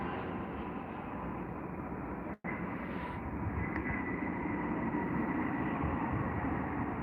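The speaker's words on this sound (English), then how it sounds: "That was the A320 popping in just then." Airbus A320 arriving at Heathrow on the 27 right approach, a steady broadband engine roar that holds loud throughout, cutting out for a split second and then continuing.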